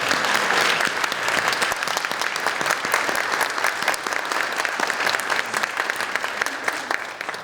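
A crowded awards audience claps steadily for youth volunteers, dense, even applause holding at a loud level throughout with no pauses.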